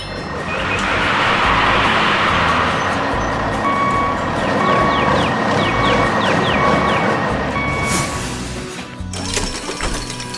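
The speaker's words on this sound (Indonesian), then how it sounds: "bak truk mulai terangkat perlahan. Beban berat itu pun tumpah ke tanah dengan suara gemuruh" Animated dump truck raising its bed and spilling a heavy load onto the ground, a loud continuous rumbling wash of noise with reversing-style beeps and machinery clatter, ending in a sharp crash near the end.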